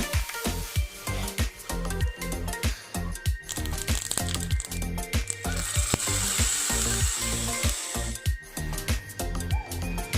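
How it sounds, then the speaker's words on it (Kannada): Mustard seeds and cumin spit and crackle in hot tempering oil for a yogurt-tomato dish, a dense run of sharp pops and bursts over a steady sizzle, close and fairly loud throughout, no voices. "ಸಾಸಿವೆ, ಜೀರಿಗೆ ಎರಡನ್ನು ಹಾಕಿ ಒಗ್ಗರಣೆ ಕೊಟ್ಕೋಬೇಕೀಗ"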